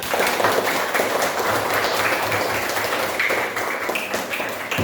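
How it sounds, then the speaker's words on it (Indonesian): A class gives a sustained round of applause, dense clapping that holds for several seconds at a steady level. "tepuk tangan untuk semua"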